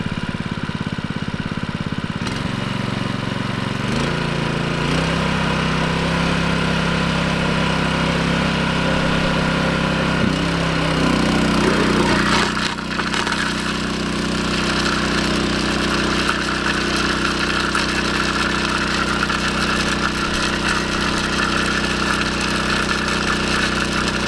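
A Honda engine drives a venturi water pump, running steadily at mid revs for the whole stretch, with a loud continuous drone that shifts pitch slightly as the speed is adjusted, alone without talk.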